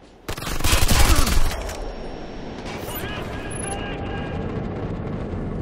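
Gunfire in a shooter video game, a loud, rapid burst of automatic fire near the start, then a steady, busy din of distant combat and electronic tones.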